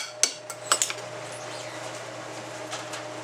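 A plate is handled while food is served from a large troop-feeding pot, giving a few sharp clinks and clatters of dishware and utensils near the start before the sound settles into a low steady hum.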